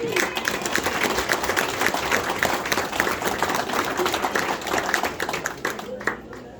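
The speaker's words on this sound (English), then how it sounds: "So Jeanette, Kathy, give them a round of applause." Sustained audience applause at a veterans honoring ceremony held by a Legion post, dense crowd clapping that is steady and loud for several seconds before tapering off at the end.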